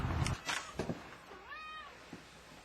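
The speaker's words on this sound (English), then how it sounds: "this cat is probably going to be in every single review, and her meows are going to be heard throughout" A house cat meows a few times indoors, with one clear drawn-out meow and a couple of shorter cries around it, close by and fairly quiet, with no talk.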